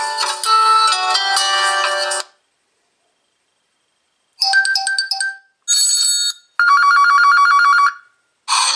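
Ringtone from an Honor 9 Lite phone played through its speaker, loud bright electronic melody snippets in several bursts separated by silence.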